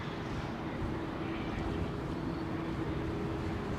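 A jet landing or taking off on the runway at London Heathrow Airport produces a continuous low broadband engine rumble that stays faint and distant and holds steady throughout, with no talk.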